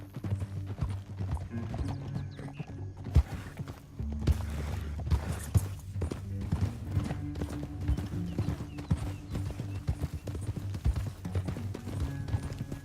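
Horse hooves clip-clop steadily over a low rumbling backdrop in the video game Red Dead Redemption 2, with a heavier thud partway through and the trotting continuing throughout.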